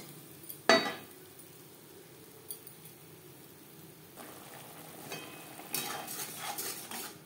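A spoon scrapes and clinks in a pan as spice paste of onion, tomato, green chilli, ginger and garlic is stirred for Pabda fish curry, with one sharp clatter early and faint sizzling and scraping later, no talk.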